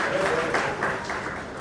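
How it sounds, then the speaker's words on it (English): Audience at a young authors' book launch applauding, a dense steady patter of clapping from many hands that fades slightly toward the end. "Give everybody a round of applause."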